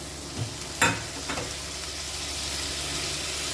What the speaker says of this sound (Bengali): যে মশলাটা করেছি সেই মশলাটা তেলের উপরে দিয়েছি